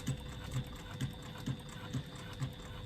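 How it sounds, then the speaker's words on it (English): A sewing machine runs top stitching across a clutch lining and facing panel, its needle thumping in a steady, even rhythm about twice per second, close and moderately loud, with no talk over it. "I am going to top stitch across on the facing panel, across the lining, using an 1/8 of an inch seam allowance"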